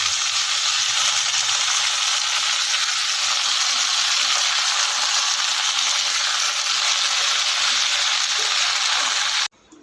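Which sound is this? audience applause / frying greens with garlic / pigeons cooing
frying greens with garlic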